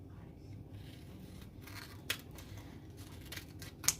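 Scissors cut a sticker sheet still on its backing paper in quiet close snips, with a couple of sharper clicks of the blades against soft paper rustle.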